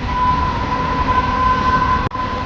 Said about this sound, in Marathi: ट्रेन पण आलेली आहे.